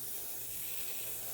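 Paint spray gun hissing at a workbench in a workshop, its hose stretched from a nearby spray booth; a steady, close, broadband airy hiss runs unbroken with no talk.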